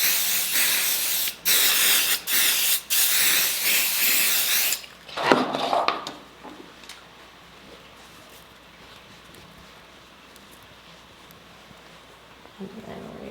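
Aerosol adhesive sprayed onto quilt batting in several quick hissing bursts followed by one longer spray, close and loud, then quiet rustling and handling.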